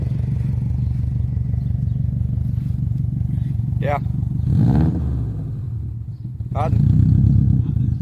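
A race car engine idles with a deep, steady rumble, then is revved in short swells before a stronger surge near the end. A person speaks briefly close by.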